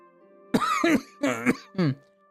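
Three harsh, raspy coughs come in quick succession, close and loud, each a short burst with a throaty edge, followed by quiet.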